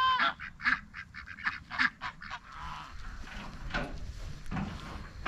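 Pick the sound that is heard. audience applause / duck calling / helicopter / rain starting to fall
duck calling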